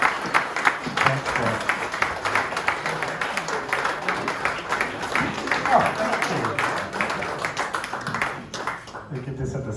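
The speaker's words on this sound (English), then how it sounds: "Give a big round of applause to our panellists and speakers." An audience at a literary dinner applauds panellists steadily, many hands clapping in a dense sustained roar that tapers off at the end, with a voice faintly underneath.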